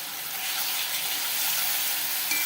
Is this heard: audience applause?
no